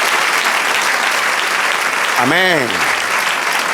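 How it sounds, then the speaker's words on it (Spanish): Church congregation applauding loudly and continuously during a Spanish-language sermon, a dense steady roar of clapping with a single voice speaking over it near the end. "Denle un aplauso al Señor."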